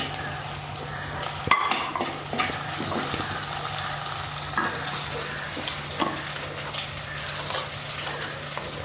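Green chillies frying with ginger, garlic and onion in a pan for a stingray curry, a steady close sizzle with occasional stirring scrapes and a sharp clatter early on.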